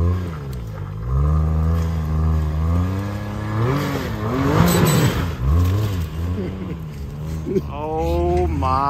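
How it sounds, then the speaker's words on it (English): An off-road rig climbs a muddy hill at a wet off-road park, its engine revving hard and rising and falling in pitch as the driver works the throttle, with people talking over the noise. "Ethan's still driving up the hill"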